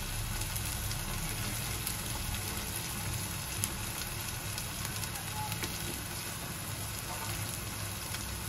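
Drumstick pods drop into fried masala with oil separating in a pan for a prawn curry, raising a dense, steady sizzle that crackles without pause throughout.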